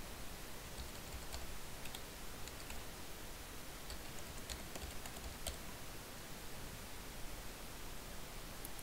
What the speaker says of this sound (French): vous allez venir taper vos emails à suivre, séparés d'un point-virgule sans espace.